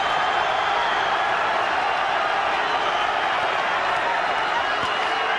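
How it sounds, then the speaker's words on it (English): A boxing arena crowd roars steadily at the Pacquiao vs Marquez fight in 2004, a dense, continuous wall of cheering and noise with no breaks, loud and sustained throughout. "Crowd are loving it."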